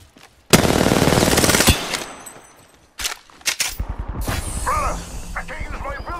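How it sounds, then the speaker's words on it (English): Automatic gunfire in a multiplayer shooter video game: a sustained loud burst lasting over a second, followed by scattered shots, clanks and game effects. "Opening fire on the enemy."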